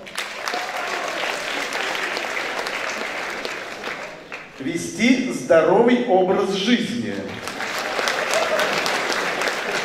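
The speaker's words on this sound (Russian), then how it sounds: "Потому что как-то все меньше и меньше аплодисментов" Audience applause in a school assembly hall, a burst of clapping rising in the middle and fading, with someone speaking before and after it.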